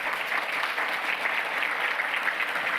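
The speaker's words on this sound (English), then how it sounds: "let's give them a round of applause." Audience applause fills a school district governing board meeting, a steady dense clapping from many hands that holds evenly for a few seconds with no voices over it.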